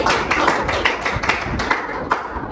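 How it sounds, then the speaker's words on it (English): A classroom of linguistics students gives a short round of applause for a classmate, quick scattered claps up close that taper off within a few seconds. "Give big applause for Adam"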